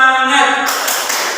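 A class of students does a rhythmic 'tepuk semangat' group clap, a dense burst of hand claps that follows a single spoken call and fills the rest of the moment at close range.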